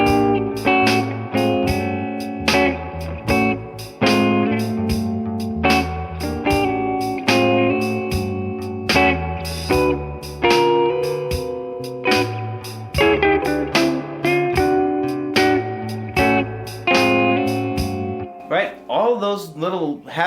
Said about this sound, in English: I'm giving it context again here with the backing track.